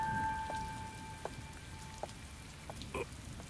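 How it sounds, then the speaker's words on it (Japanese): Steady rain falls in the video game Atelier Escha & Logy, a constant soft patter with scattered heavier drops ticking on surfaces, under faint game tones and no talking. "お、珍しいな、雨か。"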